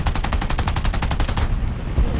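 50 cal machine guns firing in War Thunder ground battle, a fast evenly spaced rattle of heavy rounds for about a second and a half, then a dull rumble and distant impacts.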